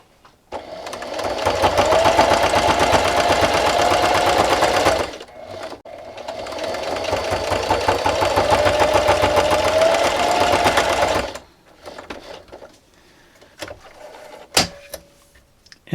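Close, loud sewing machine stitching a scrappy fabric dish scrubber in two long steady runs split by a short pause, then stopping with a few faint clicks and handling sounds.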